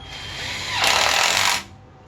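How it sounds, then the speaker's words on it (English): A cordless power screwdriver drives a screw into a wooden pallet, one close whirring burst that rises in pitch and cuts off after about a second. "got my screwdriver, and I'll just drive this in here."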